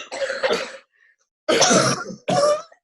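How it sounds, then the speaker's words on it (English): A few harsh coughs and throat-clearing bursts, close and loud, in two or three short clusters separated by brief silence. "Right, you just coughed up."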